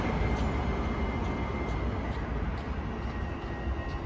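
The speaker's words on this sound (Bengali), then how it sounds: "স্টেশনে গিয়ে ট্রেনটি দাঁড়াবে" A train pulling into a station platform after a snowstorm rumbles in a steady, broad, loud roar with low engine drone, continuous and without talk.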